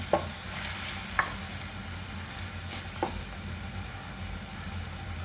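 Gram flour and sorghum flour sautéing in oil for a bottle gourd dish: a soft, steady sizzle beneath a low background hum, punctuated by a few sharp stirring clicks and scrapes, close and fairly quiet, no talking.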